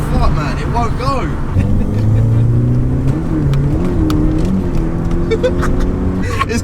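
A car engine running on nitrous revs hard and loud, its pitch climbing and holding in sustained surges, while people talk excitedly over it.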